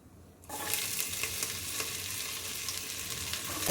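Onion, ginger, garlic and green chili hit hot oil in a pan for vegetable brinji rice, with a sudden burst of sizzle after a short quiet moment, then a steady close crackle with stirring scrapes, no voices.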